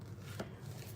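A single quick knife chop on a board in a home kitchen, faint and brief against low room noise.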